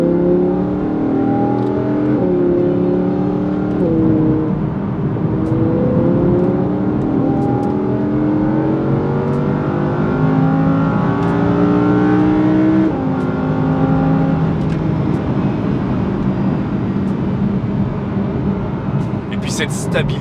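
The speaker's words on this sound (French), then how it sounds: "Et le son, ça c'est le détail marquant de ce V10." A 2-door Audi R8 V10 Plus with a naturally aspirated 5.2-litre V10 pulls hard through the gears, heard from inside the cabin with the windows closed on a bumpy mountain road in the Vercors, as the engine's pitch climbs and drops repeatedly. A voice speaks over it.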